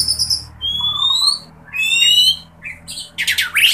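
A kacer, or magpie robin, sings a loud, close sequence of clear whistled phrases and sharp chirps, varied and spaced with brief pauses.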